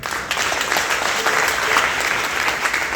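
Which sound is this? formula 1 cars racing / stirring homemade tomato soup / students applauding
students applauding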